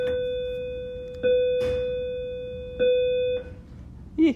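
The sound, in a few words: bell ringing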